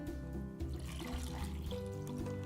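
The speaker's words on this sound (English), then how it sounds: "then we're gonna fill about half the glass with just lemonade." Lemonade pours into a glass already filled with ice, making a steady liquid trickle. It sits over a constant background hum and musical tones, with no talking.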